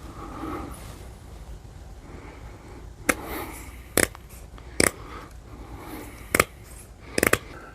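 Scissors snipping through the fabric of a Herrschner's needlework kit, five or six sharp separate cuts spaced about a second apart, close and crisp over quiet rustling.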